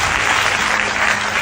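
Dense applause from a congregation at a prayer meeting in Bargarh, steady and loud across the whole short stretch, with no break or talk over it.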